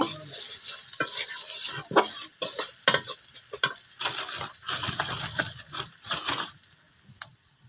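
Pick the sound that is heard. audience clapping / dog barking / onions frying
onions frying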